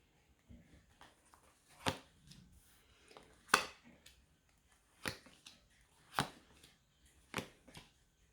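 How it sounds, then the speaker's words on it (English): Tarot cards given a final shuffle by hand, heard as soft riffling and crisp slaps in separate bursts about once a second, close and fairly quiet. "just a final shuffle here"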